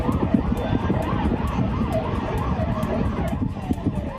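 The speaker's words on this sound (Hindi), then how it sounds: "फायर ब्रिगेड के सायरन का शोर बता रहा है" Fire brigade sirens at a large blaze near a hospital in Turkey, several wailing sirens rising and falling over heavy traffic and street rumble, continuous and fairly close.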